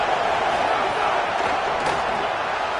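Steady roar of a stadium crowd in the college football video game NCAA 25, a dense unbroken wash of cheering that holds at an even level throughout, with no distinct voices standing out.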